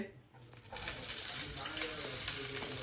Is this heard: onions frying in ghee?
yes